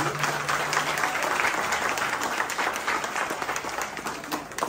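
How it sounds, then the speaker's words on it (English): Guests at a Guyanese Hindu wedding in New York break into warm applause, a thick, continuous patter of many hands clapping at a fairly even level with no one speaking over it. "give a round of applause"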